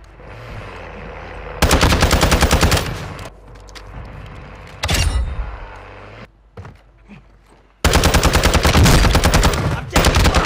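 Bursts of automatic gunfire in a Warzone 2 match, loud and close, firing in two long sustained volleys with quieter stretches of scattered shots and movement between them.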